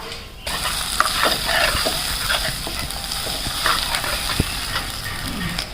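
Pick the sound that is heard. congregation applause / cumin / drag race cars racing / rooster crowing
cumin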